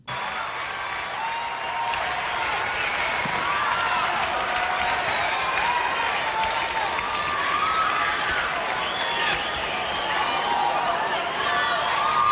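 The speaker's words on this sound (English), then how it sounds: "it was like a minute and a half of applause" A large awards-show audience at the MTV Video Music Awards gives sustained applause and cheering, a dense and steady roar that lasts throughout with crowd chatter mixed in.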